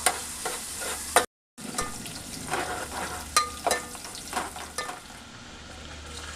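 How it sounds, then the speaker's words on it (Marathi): Onion fries in a pan until crispy brown, its close sizzle broken by repeated stirring scrapes and knocks, with a short dropout of silence early on before the frying carries on. "परतून झाल्यानंतर त्याच्यात कांदा टाकला आणि कांदा मस्त क्रिस्पी ब्राऊन होईपर्यंत"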